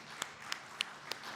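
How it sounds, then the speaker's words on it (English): Audience applause for a speaker at a talk on connected vehicle security, heard as a few sparse, faint claps spaced through a short quiet stretch. "can I please get a massive warm round of applause for Daniel Rezchuk"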